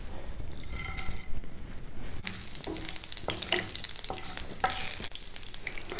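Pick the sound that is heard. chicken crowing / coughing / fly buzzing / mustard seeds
mustard seeds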